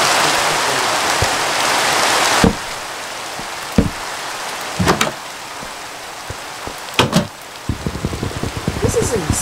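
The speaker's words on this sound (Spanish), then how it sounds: "Ay, el pobre, está lloviendo." Steady rain falls in a video game, a continuous hiss broken by a few sharp clicks and knocks, with a person talking over it.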